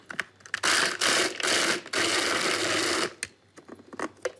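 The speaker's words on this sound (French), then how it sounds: "je concasse grossièrement mon chocolat" Blond dulcey chocolate is coarsely chopped in a food processor: several loud whirring pulses, one long sustained run in the middle, then short clicks and bumps as it stops.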